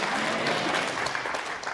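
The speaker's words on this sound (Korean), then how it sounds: "그 하나님께 영광의 박수" A church congregation at a Korean revival service applauds in praise, a brief burst of dense, loud clapping from many hands filling the room.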